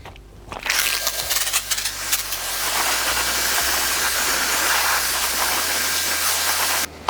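Pressurized water sprays soap off ceramic-coated car wheels, a loud steady hiss that starts abruptly, runs unbroken for several seconds and then cuts off, with no one speaking.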